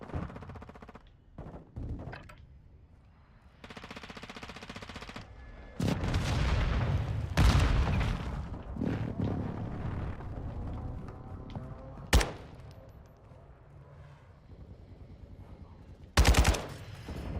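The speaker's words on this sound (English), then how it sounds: "Hostiles called in an airstrike." An airstrike rages in a Call of Duty Modern Warfare 2 match on Xbox, with rattling bursts of automatic gunfire and heavy explosive booms, two sharp blasts standing out near the end.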